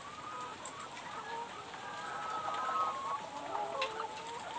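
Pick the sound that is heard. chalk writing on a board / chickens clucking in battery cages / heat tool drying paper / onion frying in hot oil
chickens clucking in battery cages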